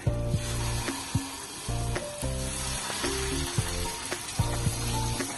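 Chicken pieces for kalmas frying in oil on a low flame, a steady bright sizzle broken by repeated scrapes and clinks of a spatula stirring, close and unaccompanied by voices.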